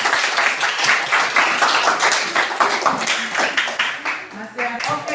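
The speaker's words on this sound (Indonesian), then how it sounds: "Oke, tepuk tangan." Students in an Indonesian classroom clap together on cue during a lesson, a rhythmic burst of hand claps with some taps and a voice mixed in beneath.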